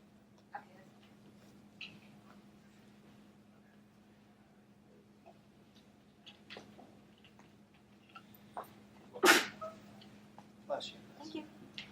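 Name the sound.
sneeze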